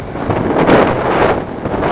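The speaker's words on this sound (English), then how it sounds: "The wind is cold." Cold wind gusting across a wooded outdoor yard in early March, a loud, steady roaring rush on the microphone with swelling gusts and no voices.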